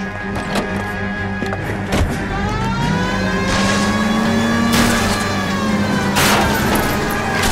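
Car engine roaring and revving in L.A. Noire as the vehicle crashes through suburban backyards, with loud thuds and impacts scattered throughout and a sustained engine drone, a tonal whine shifting pitch over the top.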